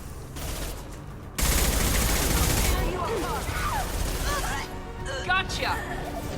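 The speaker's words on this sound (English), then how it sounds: "Shooting mercs in the face, once again" Rapid gunfire bursts in a Mass Effect 2 firefight against mercenaries, a dense crackling fusillade that kicks in abruptly and stays loud, with sharp electronic zaps and weapon effects scattered through, over a player talking.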